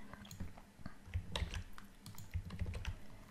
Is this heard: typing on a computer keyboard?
yes